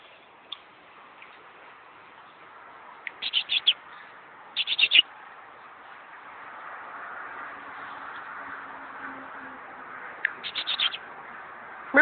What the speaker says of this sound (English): Come here, little birdie.